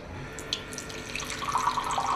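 Water running from a drinking-water dispenser into a glass, a soft steady trickle that grows slightly louder as it fills, quiet and close with no talk.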